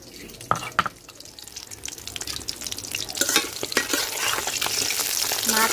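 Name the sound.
koi fish frying in oil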